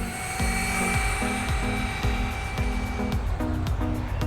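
A Traxxas UDR RC truck's electric motor whines hard at full throttle, its pitch climbing and dropping in repeated surges as the truck speeds up, nearby and loud over faint outdoor background.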